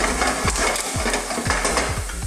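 Ginger and garlic sizzle steadily in hot oil in a wok for a Chinese sweet and sour fish, with a spatula scraping in a regular rhythm about every half second.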